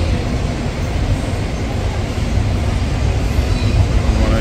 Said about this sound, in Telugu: వెనకాతలో గూడ్స్ ట్రైన్ వెళ్తుంది.